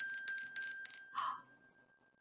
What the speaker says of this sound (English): That's the captain's bell, she explained.